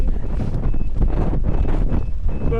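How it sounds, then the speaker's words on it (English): Strong wind buffets the microphone outdoors at the Cereals 2025 farm show, a constant heavy rumble and roar that fills the whole stretch with only slight swells. "Bit windy out here."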